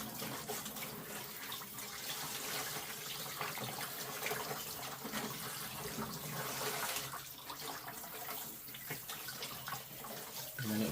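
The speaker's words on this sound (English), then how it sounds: "So I guess we'll just kind of get water all over it." Tap water runs steadily over a rosemary-coated turkey from a Kinder's butcher's brine kit as it is rinsed in a sink, a continuous close splashing rush lasting several seconds without speech.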